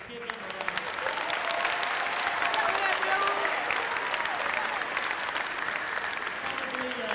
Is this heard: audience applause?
yes